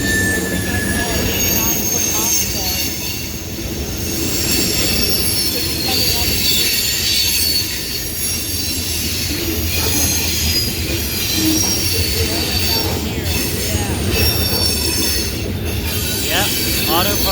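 A CSX freight train of boxcars and tankers rolls steadily past, hauled by two EMD locomotives, its wheels squealing loudly and continuously over a rumbling clatter of railcars close by.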